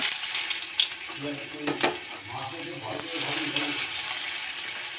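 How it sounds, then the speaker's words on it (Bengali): Onions frying in hot oil in a wok, a steady close sizzle with a few clinks and stirring scrapes, mostly even in level throughout. "এবার পেঁয়াজগুলো ভেজে নেব মাছের ঝোলের জন্য"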